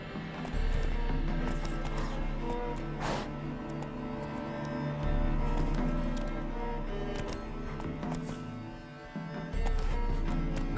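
Geralt's horse Roach trotting in The Witcher 3, a steady clip-clop of hooves under a low ambient drone, close and even in rhythm throughout.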